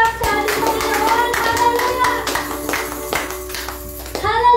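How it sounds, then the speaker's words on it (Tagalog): Church congregation clapping in praise, a dense wash of many hands applauding close and loud, with a musical tone and some voices sustained underneath throughout. "isa mo na malakas sa palakpak sa ating Panginoon!"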